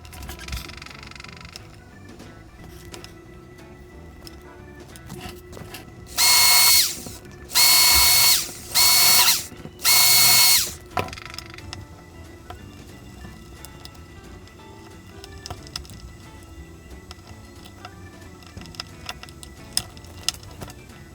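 Power drill boring holes in a part for the Z axis of a homemade CNC machine, four loud close bursts of a few seconds each with short gaps between, preceded and followed by quieter workshop noise.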